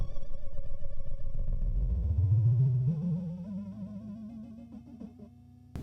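A BOSS SY-300 guitar synth tone with low pitch envelope attack: a sustained synth note that sweeps and wavers in pitch before settling into a steady low tone, fading gradually, alone.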